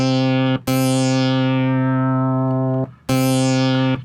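Percussive patch on a Studiologic Sledge synthesizer, built on a ramp waveform: three sharp-attack tones, each decaying from bright to mellow, the second held longest, close and loud with no voices.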